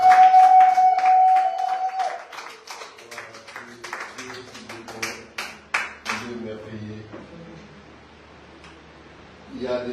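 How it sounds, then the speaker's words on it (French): Church congregation applauding at a Sunday service, with a spread of brief claps and a steady patter that fades toward the end, while voices speak over it. "On peut acclamer."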